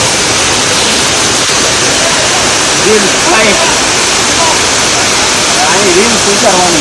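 Loud, steady rush of water pouring through a forest stream in the Dang jungle, a continuous broadband roar close by, with people talking over it in the second half.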